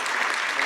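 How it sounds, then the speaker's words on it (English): An audience at a university lab naming ceremony breaks into a short, dense burst of applause, steady and close throughout. "Let's give him some applause again."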